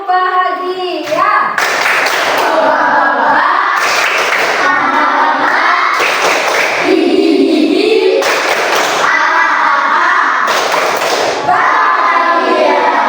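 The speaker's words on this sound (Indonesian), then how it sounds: "Coba tepuk bahagia" A school class claps out the 'tepuk bahagia' chant, with several loud bursts of group clapping and chanting voices repeating in a steady rhythm over about thirteen seconds, close and lively in a classroom.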